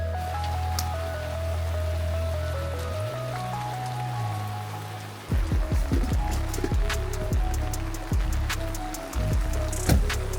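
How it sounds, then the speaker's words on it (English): Rain falls steadily at a riverside campsite during a storm, with scattered drops tapping on surfaces beside a flowing river; a low engine-like hum fills the first half before the sharper patter of drops takes over. "And it's raining again."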